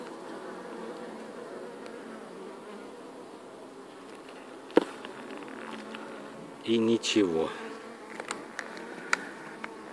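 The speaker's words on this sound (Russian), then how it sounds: "Горстка пчелы осталась." A small group of honey bees hums steadily inside an empty log hive, a low continuous close buzz, with a brief spoken remark and a few clicks and knocks partway through.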